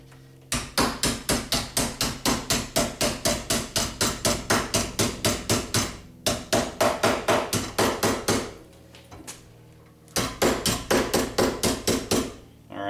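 A hammer forms a sheet metal flange on an aircraft rear rib, with rapid, steady, ringing metallic blows in long runs, loud and close, paused briefly twice.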